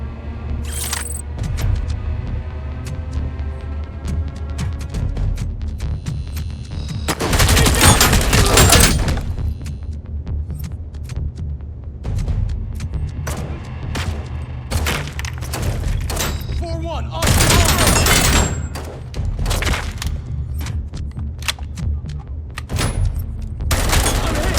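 Robocop Unfinished video game combat: rapid bursts of gunfire crackle throughout, punctuated by two loud extended grenade blasts, with booming thuds and scattered shots between, while a voice talks at times beneath the action.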